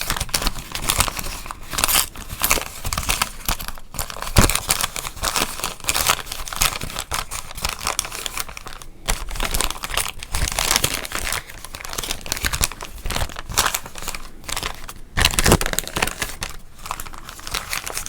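Crinkling plastic wrapper of a pack of Topps baseball cards, handled up close in continuous dense crackles and rustles with brief louder crunches, no talking.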